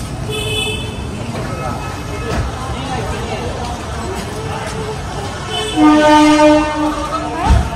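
A train rumbles through a railway station with a loud horn blaring near the end, over a steady mechanical drone and clatter, while a person talks nearby.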